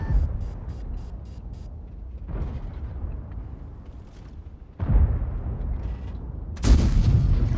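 Three heavy booming tank gun shots from a UDES 15/16 in World of Tanks, spaced a couple of seconds apart, each with a rumbling tail over steady engine and track noise.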